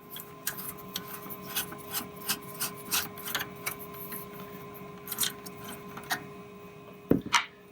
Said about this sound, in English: Next, we're going to remove the screws around this plastic piece here.